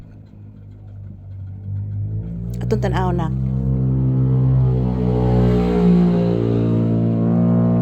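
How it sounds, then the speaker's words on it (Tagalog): A loud motorcycle engine rumbles nearby and its revs climb into a steady, strong drone, while a person talks over it at the start. "Makabungog yang tingog sa iyang motor anak."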